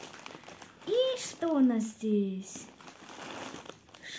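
Scissors cut open a plastic parcel package with crinkling plastic, heard beneath a person speaking Russian in the foreground.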